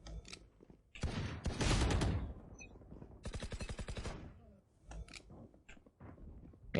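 Gunfire in a deathmatch video game, with rapid automatic bursts and single sharp shots sounding in clusters, loud and close, including one long fast volley in the middle.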